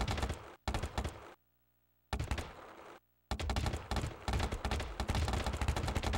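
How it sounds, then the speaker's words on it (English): A paintball marker firing in the game Greg Hastings Tournament Paintball Max'd, with loud rapid bursts of popping shots broken by two short silent gaps before steady fire resumes. "Paintball fires every time you press the button."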